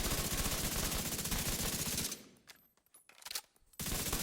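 Dense, continuous automatic weapon fire in the shooter game The Division 2 is played on console and lands headshots. The fire pauses for about a second and a half with a few scattered clicks and shots, then resumes at full volume.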